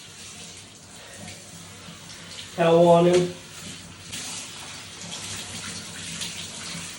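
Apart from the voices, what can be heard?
water running from tap during dog bath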